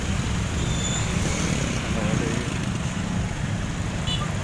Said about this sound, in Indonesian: pasar Malikung macet banget